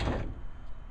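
A kitchen drawer in a vehicle interior slides shut with a single firm thud and rumble at the start, then fades into a low lingering resonance.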